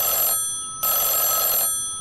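A telephone rings in two clear electronic bursts with a short gap between them, loud and close with no talk, a morning call from an uncle.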